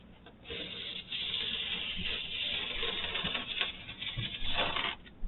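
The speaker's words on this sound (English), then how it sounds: "Just like butter, your knife carves right through cardboard." A knife slicing through cardboard, a steady scratchy rasp with small crackles and a few louder tearing bursts near the end, close and alone with no talk.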